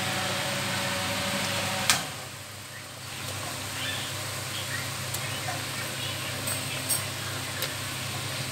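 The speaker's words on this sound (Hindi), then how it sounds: "पंखे की आवाज़ आती रहती, कूलर की आवाज़ आती रहती" A ceiling fan and an air cooler run together in a hot home kitchen, giving a steady broadband whir and hum throughout, with a brief thump near the start and a few faint clicks.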